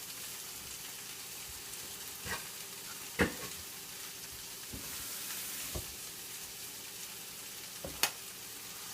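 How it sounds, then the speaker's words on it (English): Eggs cooking with bacon, kale and spinach in a pan give a soft, steady sizzle close by, broken by a few light clicks and scrapes of stirring. "take your eggs, mix it on up, cook them all together with the bacon, kale, and spinach"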